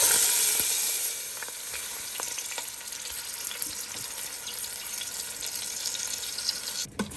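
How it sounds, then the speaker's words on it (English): Soaked rice hitting a hot pot still oily from fried potatoes gives a steady close hiss and sizzle, with faint stirring scrapes and a few small clicks, with no voices over it. "So now to that I will add in the soaked rice."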